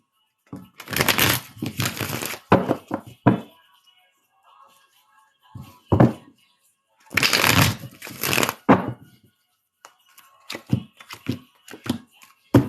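Cards are shuffled in several quick riffling bursts separated by pauses, close and clear, with faint taps and handling in between.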